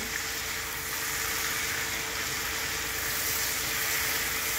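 Fish coated in turmeric frying in oil gives a steady, even hiss of sizzling that holds at the same level throughout, close and continuous with no voices.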